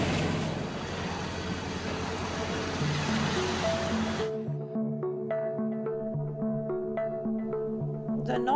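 North Sea waves wash steadily as a boat heads out from Cuxhaven. Midway the surf noise cuts off and gentle melodic music takes over.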